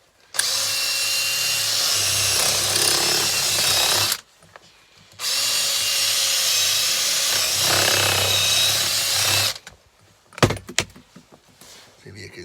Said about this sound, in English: I'm just going to drill a hole there and uncover the other side of